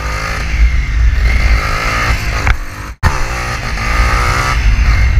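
A motorcycle engine revving hard on an open road, loud and close, the throttle rising and falling with a brief cut near the middle before the roar picks up again.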